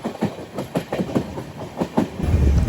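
The Kamrup Express, running from Dibrugarh to Howrah through Assam, clatters along the rails in a steady rhythmic clickety-clack heard from on board, with the rumble swelling louder at the end.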